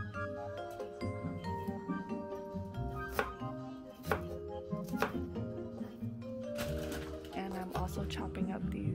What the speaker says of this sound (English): Chopping up these breakfast sausages that I got from Costco